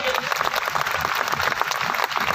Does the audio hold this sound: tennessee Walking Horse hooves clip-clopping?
no